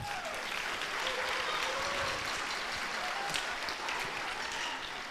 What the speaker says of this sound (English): Just give them a little applause.